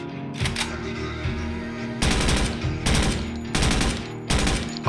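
Rapid bursts of automatic gunfire from a Door Kickers 2 firefight, four or five loud clattering volleys separated by short pauses, close and dominant with no talk over them.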